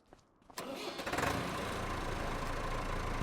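A little Ferguson tractor fires up in Farming Simulator 25: a short crank after near-silence, then the engine catches and settles into a steady, loud idle rumble.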